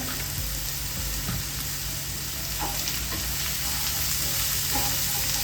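Turmeric powder stirred into a frying curry for a Kerala lunch meal, a steady hiss of sizzling oil running throughout with faint soft scrapes of the spoon, close and alone.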